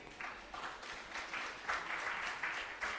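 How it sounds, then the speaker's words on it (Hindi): Faint, distant audience clapping continues at a public program in Chhattisgarh for an honored guest, a steady patter with rhythmic surges of synchronized claps running throughout. "तालियां बजती रहनी चाहिए"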